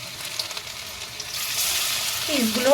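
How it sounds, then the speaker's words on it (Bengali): Raw meat fries in a pan with a soft, steady sizzle that swells slightly toward the end, where a brief voice cuts in. "ধৈর্য ধরে ভাজতে হবে মাংসটা তো কাঁচা"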